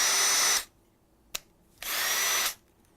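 A power drill whirs in two short bursts with a brief click between them, loud and close, each burst starting and stopping abruptly.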